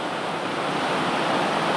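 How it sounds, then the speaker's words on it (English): Water cascading over rocks at Lost Creek Falls in White County, Tennessee, a steady, even rushing hiss that fills the whole moment with no voices. "You're looking at the cascades"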